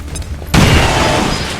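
A single loud grenade blast in XCOM 2: War of the Chosen, a sudden booming detonation that cuts in partway through and rolls on as a noisy rumbling tail.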